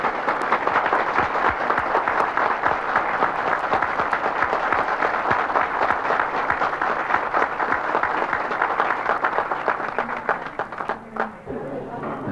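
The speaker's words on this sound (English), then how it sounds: "President Anwar Sadat is taking his seat with thunderous applause." Thunderous applause fills Israel's Knesset as Egyptian President Anwar Sadat takes his seat in 1977, a dense, sustained roar of clapping from a large parliamentary audience, easing slightly near the end, where a voice briefly surfaces.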